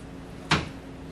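A single short knock as a metal workshop drawer holding lathe collets is opened or closed, one quick close thud over quiet room noise.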